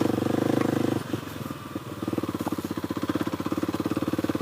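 A dirt motorcycle in low gear chugs along a rough Florida trail, loud and close, its engine pulsing steadily, dipping briefly as the throttle eases before the throbbing firing rhythm returns.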